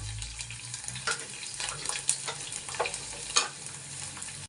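Garlic and dried red chillies frying in a pan for a fenugreek leaf gravy, a close steady sizzle broken by a few scraping stirs, with no voices.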